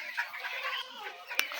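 Broiler chickens cluck on a poultry farm during hot weather, a dense, close chorus of overlapping clucks and calls over about a second and a half, with one sharp knock near the end.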